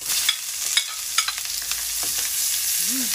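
Garlic and onion sauté in oil in a pan for Visayan humba, giving a steady sizzle with a few sharp clicks of stirring. A rising whistle-like tone comes in near the end.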